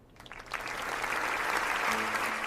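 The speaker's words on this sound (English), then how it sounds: "Applause and cheering fill the auditorium!" An auditorium audience breaks into applause, the clapping rising quickly from quiet to a full, steady roar that holds to the end, with a brief tonal sound near the close.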